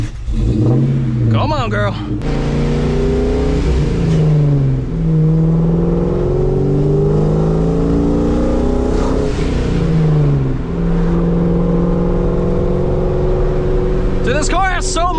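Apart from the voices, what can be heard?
boosted New Edge Ford Mustang revving and accelerating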